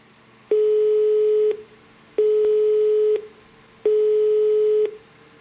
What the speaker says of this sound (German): wir telefonieren mit Jonas